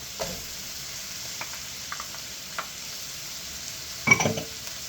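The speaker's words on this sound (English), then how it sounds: "Now, we're going to add in our onions." Onions fry softly in a pan for amatriciana sauce, a faint steady sizzle with a few light stirring taps and a brief louder scrape near the end, heard without talk.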